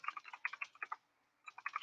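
Rapid keyboard typing in irregular bursts of clicks, close and fairly quiet, with a short pause before the tapping resumes.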